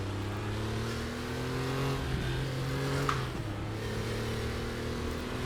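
Vintage Porsche race car in the RaceRoom racing sim, a steady droning engine with its pitch shifting as it drops and then climbs again, held at moderate level throughout.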